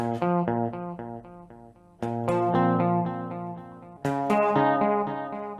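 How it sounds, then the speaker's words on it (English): A melodic instrument plays through an H9 pitch-shifting delay that adds a fifth harmony and repeats the notes, giving three clear phrases of ringing tones that each start with a bright attack and then trail into echoing repeats. "I'm using this pitch shifting delay from the H9, which is adding the fifth as the harmony and keeps repeating the basic note."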